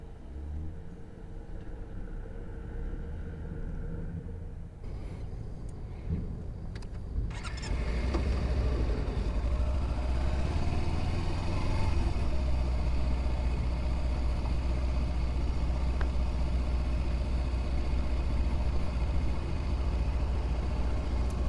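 A car draws near, its low engine rumble growing louder until it settles into a steady, close idle that holds low and even throughout the remaining time.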